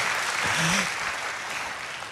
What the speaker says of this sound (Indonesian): Tepuk tangannya bisa lebih dahsyat dari ini.